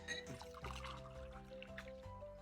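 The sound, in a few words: drink being poured from one cup into another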